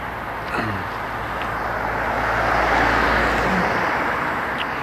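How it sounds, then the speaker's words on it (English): Cars pass along a road outdoors, with a low traffic rumble that swells as a vehicle draws near around the middle and then eases off, fairly close and without talk. "These are cars."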